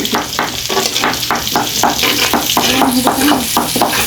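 Chopped onions sizzle and crackle in a hot pan as they are stir-fried, with rhythmic stirring scrapes repeating roughly twice a second, close and steady.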